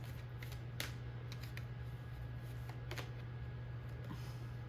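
Tarot cards being shuffled during a love reading give soft riffling bursts and quick papery snaps, several short shuffles over a faint steady hum.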